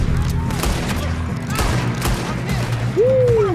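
Gunfire in Red Dead Redemption 2 during a train robbery shootout, several sharp shots spaced irregularly amid distant booms and game ambience, with a rising whistle-like tone near the end.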